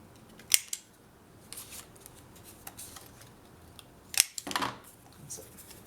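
Close, crisp snips from a corner-rounding punch or scissors trimming paper corners for a scrapbook album page, a few sharp cuts separated by quiet pauses with light paper rustling in between.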